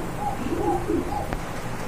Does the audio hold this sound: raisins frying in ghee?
no